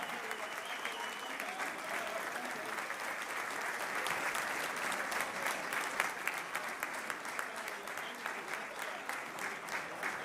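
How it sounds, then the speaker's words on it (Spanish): An audience applauds tango dancers at a celebration held at the Hungarian Society hall in Villa Ángela, Chaco. The clapping is dense and steady throughout, moderately loud, and a few voices are faintly mixed in. "El aplauso de su público para ellos"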